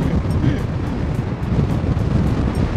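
Strong wind buffets the microphone in a park in Madrid, a loud continuous low rumble with gusty swells throughout.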